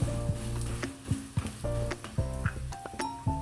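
Food sizzling in a pan right after being flipped, a close crackle broken by sharp clinks and scrapes of a utensil against the pan, with no talking.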